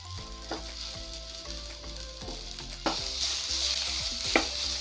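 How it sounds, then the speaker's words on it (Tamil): Chopped tomatoes fry in a pan with coriander leaves, giving a strong continuous sizzle under repeated scraping stirs and clinks of a spoon, with no talking. "தக்காளியை நல்லா ஃப்ரை பண்ணிக்கோங்க."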